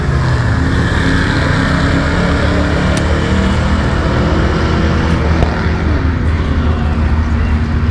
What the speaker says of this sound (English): That's a LS powered Studebaker